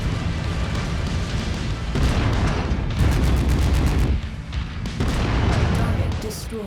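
Heavy autocannon fire from an LBX AC-10 in MechWarrior 5: Mercenaries, a series of loud, close, booming bursts in clusters over continuous battle rumble, with talk mixed in.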